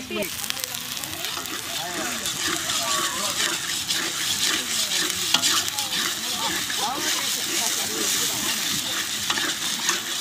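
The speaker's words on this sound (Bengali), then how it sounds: "মশলাটা ভাজ" Spices fry in a pan for desi chicken in a West Bengal village kitchen, giving a loud, continuous sizzle with stirring scrapes throughout.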